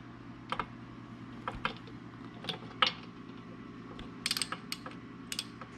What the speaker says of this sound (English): the first thing you're going to do is tighten your M8 bolt